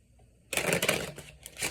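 Tarot cards shuffled by hand close by, a dense papery rustling and riffling that starts abruptly after a quiet moment and continues for about a second with small flicks.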